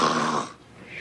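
People imitate snoring in a short, rough, breathy rasp that fades after half a second and then starts a softer second breath.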